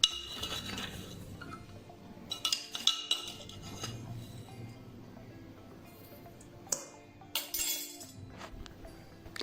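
A spoon scoops sugar into a mixing bowl for croissant dough, with repeated light metallic clinks and taps against the bowl at close range, separated by quiet scraping and short pauses.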